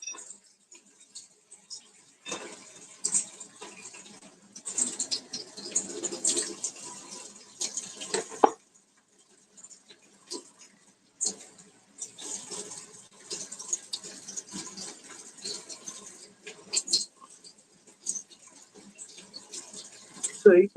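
Tap water runs over a bunch of thyme being rinsed in a sink, splashing in bursts that start and stop as the sprigs are moved under the stream, close by and moderately loud.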